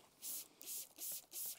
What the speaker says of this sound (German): sprüht auch so noch